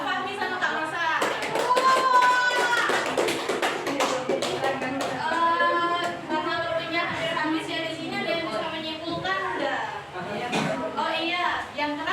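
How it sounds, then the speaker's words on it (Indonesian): Classroom audience clapping during a microteaching session, dense overlapping claps sustained throughout with children's voices and chatter mixed in. "Tepuk tangan untuk Kak"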